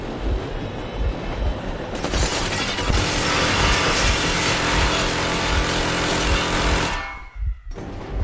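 A train engine in the game Metro Exodus rumbles loudly and continuously with mechanical clanking and hiss, then drops away briefly near the end before resuming.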